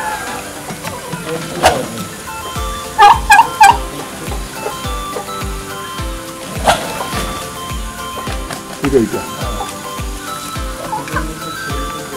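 A turkey cock in a hill tea-garden village gobbles in short repeated bursts over a background of music with a regular beat, the calls rising a few times above the steady rhythm.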